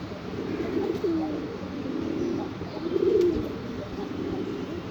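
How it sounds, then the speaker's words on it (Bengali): Near the foot of a mango tree outdoors, a pigeon gives two or three soft low coos over a constant background hum. "পায়রার ডাকটা শুনুন, কত সুন্দর লাগে।"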